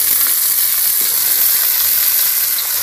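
Bunches of water spinach (kalmi saag) frying in hot oil with a little spice: a steady, loud, close hiss of sizzling that stays even without pauses or talk.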